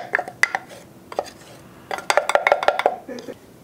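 A spoon stirs zucchini bread batter with flour in a mixing bowl, giving close, clattering scrapes and clinks that come in irregular clusters with brief quiet gaps.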